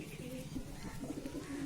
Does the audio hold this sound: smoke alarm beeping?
no